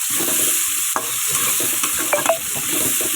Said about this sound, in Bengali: আলুটাকে সুন্দর করে ভাজবো